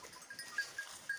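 Goats bleat softly in a farm setting in the evening, with a few short, faint calls spread across a brief moment.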